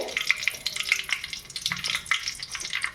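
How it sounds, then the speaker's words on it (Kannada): Curry leaves hit hot oil in a tempering with mustard seeds, crackling and spluttering in rapid, uneven bursts of sharp pops close by, with no talking. "ಸ್ವಲ್ಪ ಕರಿಬೇವಿನ ಸೊಪ್ಪು ಹಾಕೋಣ ಸಿಡಿಯುತ್ತೆ"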